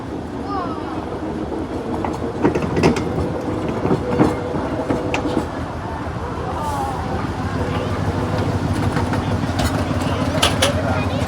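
A 1927 train rolls along the rails on an autumn ride near Huntsville, Ontario, with a steady low rumble and repeated clickety-clack beats, loud and continuous, while people talk over it.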